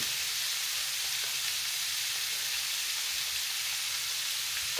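Lamb searing in olive oil on low heat in a deep pan, a steady, even sizzling hiss that holds throughout, close and uninterrupted, with no talking.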